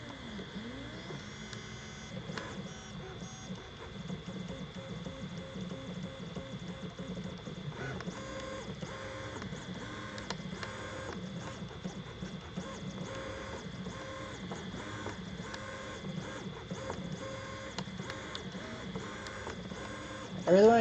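An EasyThreeD K1 3D printer works through a print, its stepper motors whirring and chirping in a steady, busy pattern of tones with small shifts, fairly quiet and close, with no break in motion.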